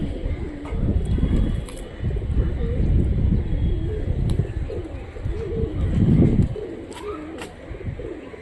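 Pigeon cooing from a Rajshahi tumbler pigeon kept at home, soft repeated low coos running steadily throughout, close by, with some background chatter and faint higher bird chirps.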